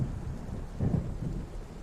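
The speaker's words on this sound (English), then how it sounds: "It seems there's a storm coming." Storm ambience in the video game Alan Wake, a low rumble of thunder swelling near the middle over a steady bed of rain, with no voices.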